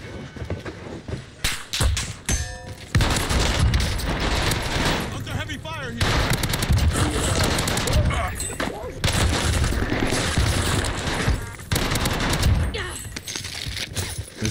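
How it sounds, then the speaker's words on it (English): Heavy gunfire on the Fortune's Keep map of a Rebirth-style battle royale game, with rapid automatic bursts and sharp shots in dense, loud clusters and brief lulls, while a player talks throughout. "Under heavy fire"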